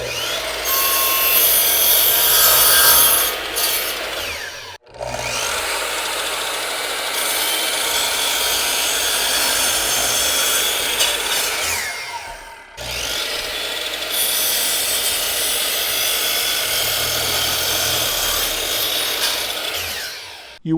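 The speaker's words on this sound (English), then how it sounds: "We're now nailing those two 45 degrees together." A power tool drives nails to join two 45-degree crown molding pieces into a corner jig, heard as loud, sustained buzzing wood-and-motor noise in three long bursts separated by brief pauses.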